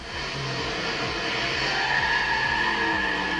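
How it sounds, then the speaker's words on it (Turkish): Steady engine roar of a racing car in GTA played on an old Windows XP PC, with repeated rising revs and tire noise, continuous and loud, no talking. "Nasıl araba sesleri?"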